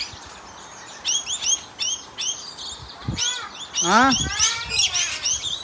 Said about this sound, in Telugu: పక్షులు వచ్చేసాయండి అప్పుడే.